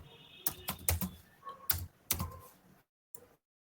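Keys clatter on a computer keyboard while numbers are typed into an Excel spreadsheet, a quick irregular burst of close, crisp taps followed by a pause and one last tap.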